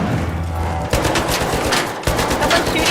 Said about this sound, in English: Someone's shooting at us from outside, I think.